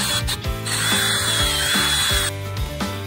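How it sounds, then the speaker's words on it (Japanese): A power drill whirs steadily and loudly, its motor pitch rising and dropping in repeated bursts as it bores a bolt hole while building a portable submersible pump. "ドリルで穴を開けます。"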